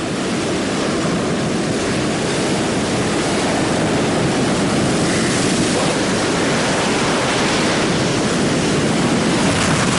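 Continuous roaring surf, a dense wash of crashing sea waves with steady wind noise, loud and unbroken throughout.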